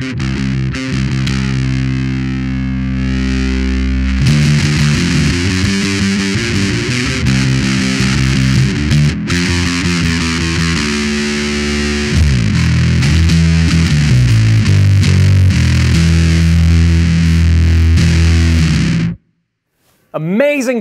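A bass guitar runs through an Electro Harmonix Big Muff distortion pedal, playing thick, fuzzy, sustained notes and chords in changing phrases. It stops abruptly, and a short voice follows.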